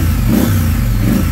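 A stock 2022 Triumph Scrambler Street motorcycle engine revs with a deep, guttural tone, loud and close, the throttle held in a continuous rumbling surge with no talk over it.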